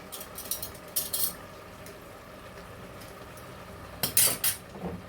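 Mutton biryani masala with lemon juice being stirred in a pot, a spoon scraping and clinking against the metal in short bursts at moderate distance over a faint background hum, no voices.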